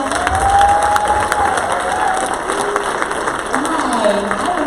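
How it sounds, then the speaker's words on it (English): Audience at a conference session clapping and cheering, a busy crowd wash with scattered whoops and shouts rising over steady applause. "applause."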